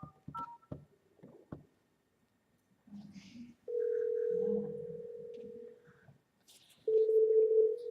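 Telephone keypad tones sound during dialing on an office phone system, a few short beeps followed by longer steady tones separated by gaps, clear and close.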